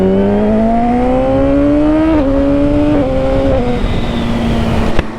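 Yamaha R6 motorcycle engine revving, a loud rising whine that climbs steadily, dips briefly at each gear change, then eases off near the end.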